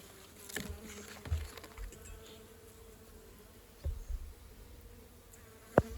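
Honeybees buzz softly inside a small winter mini nuc hive during an inspection, a faint steady drone with a few light taps and knocks.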